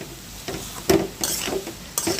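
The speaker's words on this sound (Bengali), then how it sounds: "এখন একটু নেড়ে ছেড়ে নিচ্ছি" Cooked taro (kochu) being stirred in a pan as it cooks down with hilsa fish, with several bursts of spatula scraping and light sizzling separated by short pauses.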